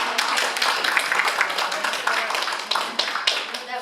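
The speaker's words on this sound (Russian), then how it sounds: "Если так будете аплодировать" An audience applauds at a centenary celebration, with dense, continuous clapping from many hands filling the room at full volume for the whole stretch.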